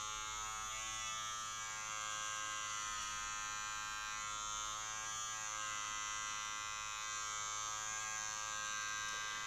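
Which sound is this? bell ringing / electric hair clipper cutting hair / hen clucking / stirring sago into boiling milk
electric hair clipper cutting hair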